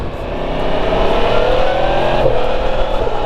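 Engine of a 2023 Yamaha MT10 motorcycle revving up to about 4,000 rpm on a ride, a loud, steady, rising roar held close throughout with no talk over it.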